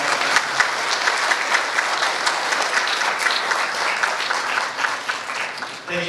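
Gala dinner audience giving a sustained round of applause, dense steady clapping from a large room, loud and continuous throughout.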